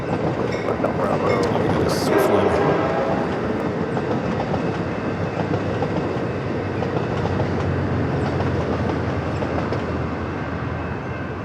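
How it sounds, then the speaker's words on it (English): Amtrak Surfliner passenger train passing near San Diego airport, a continuous rumbling roll with rhythmic wheel clatter and a brief high squeal early on, steady and fairly loud throughout, with faint voices in the background. "Amtrak Surfliner heading to the north."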